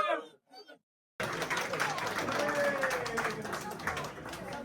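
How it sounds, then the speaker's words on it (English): Crowd at a Newcastle United fan event applauding the players, a sustained wash of clapping and cheering after a brief voice, with the crowd noise continuing steadily to the end. "a big round of applause to Fabian, Kieran and Sandro"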